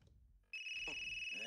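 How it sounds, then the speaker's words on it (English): A telephone rings in the video game Unheard: a sharp, steady electronic ring cuts in after a brief quiet stretch and holds loud and continuous, with a voice speaking briefly underneath. "Jesus, phone is ringing."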